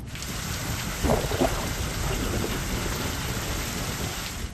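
Heavy monsoon rain pours steadily over southern Gujarat, a dense continuous hiss with rolling thunder rumbling low beneath it throughout.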